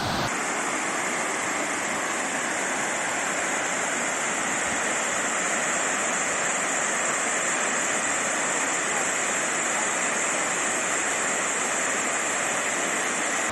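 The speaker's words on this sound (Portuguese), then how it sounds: "E essa aqui é a cachoeira do Jajá, olha só." Cachoeira do Jajá, a waterfall in Morretes, pours in a steady, broad rush of falling water heard from nearby. The roar is continuous and even throughout, with no distinct voices standing out.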